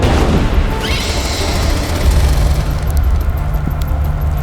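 Loud, dense battle noise with heavy low booms and blasts rumbling continuously, a chaotic wall of explosive sound close by.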